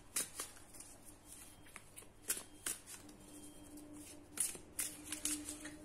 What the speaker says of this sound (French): On va mettre une autre carte.